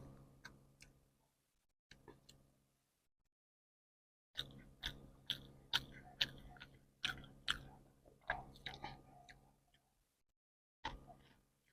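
Close, wet chewing of pangas fish curry and rice with lemon comes in irregular bursts of rhythmic mouth sounds, broken by short silent pauses, with no talking.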